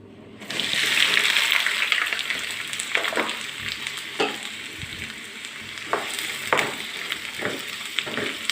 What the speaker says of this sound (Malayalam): സവോള ഒന്ന് വറുത്തെടുക്കണം